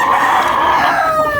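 A White Hat rooster crowing up close, one loud sustained call with a long drawn-out tail, alone with no talk over it.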